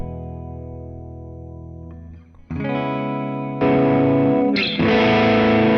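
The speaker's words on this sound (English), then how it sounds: "Twin reverb." An electric guitar plays through a Fender Twin Reverb amp with a distorted tone: one long ringing chord, then three more sustained chords, each arriving with a fresh, louder strum.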